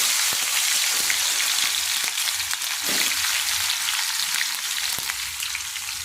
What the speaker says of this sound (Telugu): ఇప్పుడు మనం కాకరకాయ ముక్కల్ని రెండు వాయిలుగా వేపుకుందాం